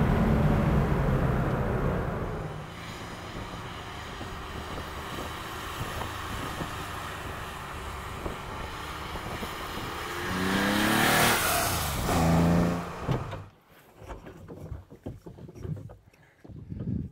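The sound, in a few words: Porsche ST sports car engine driving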